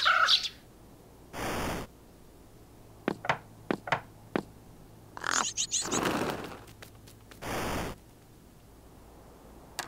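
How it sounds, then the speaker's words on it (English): Bird calls from the Tic-Tac-Crow mobile game: a few short caws and chirps in a scattered series, with bursts of game sound effects in between, set against quiet background. "Two birds playing together."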